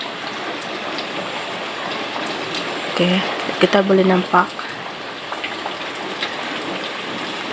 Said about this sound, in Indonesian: hujan yang jatuh di bahagian akar dia.